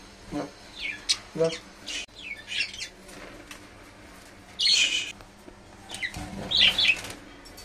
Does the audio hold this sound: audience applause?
no